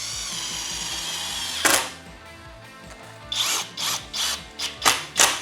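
A cordless power drill drives screws: a steady whir at first, then a sharp burst, followed by a run of short, punchy bursts close by, with no talking.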